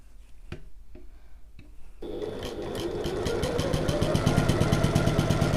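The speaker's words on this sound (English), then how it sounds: "I'm sewing through both on both sides of my strap tab." A sewing machine stitching through a tote bag's strap tab. A few sparse clicks come first, then a steady, fast, rhythmic run of stitches that grows louder and continues to the end.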